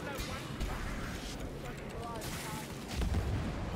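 Explosions boom in the Vermintide 2 video game, with rumbling low blasts and a louder burst near the end, all set against dense background noise.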